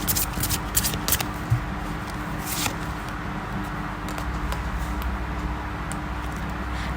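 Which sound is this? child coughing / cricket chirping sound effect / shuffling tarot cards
shuffling tarot cards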